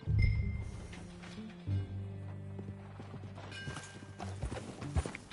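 Horse hooves clip-clop in the open-world game Red Dead Redemption 2 as a rider moves along, irregular close hoofbeats over a low tonal music bed, with a brief whinny-like cry.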